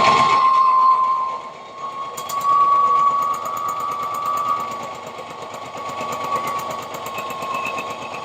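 Overlock sewing machine stitching along a patchwork clothing piece made from upcycled old clothes, a close, loud rapid mechanical whirring with a fine rhythmic chatter, briefly easing off before running again steadily.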